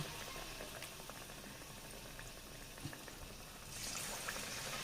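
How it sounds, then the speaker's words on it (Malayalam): Jackfruit fritters deep frying in oil give a faint, even bubbling hiss that rises slightly toward the end, with no talking. "നമുക്ക് അടുത്ത സെക്ഷനും ഇട്ട് നമുക്ക് ഫ്രൈ ചെയ്ത് എടുക്കാം"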